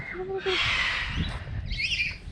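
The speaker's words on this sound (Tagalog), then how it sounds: "May mga ibon." Birds call outdoors on a hillside viewpoint near Cagayan de Oro, with a couple of brief squawks and chirps rising over a steady background while people speak nearby.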